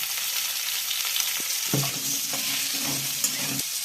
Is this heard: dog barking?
no